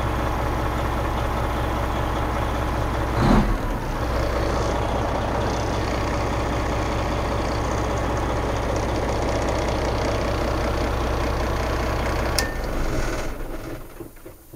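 A 1992 Freightliner FLD Flat Top truck idles steadily, its diesel engine rumbling loud and close with a constant low throb and a brief rattle partway through.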